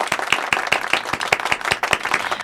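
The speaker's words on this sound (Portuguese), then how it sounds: "Vamos dar uma salva de palmas aqui." A small group claps at a podcast premiere, a brisk burst of distinct, fairly close handclaps in an uneven rhythm lasting a couple of seconds.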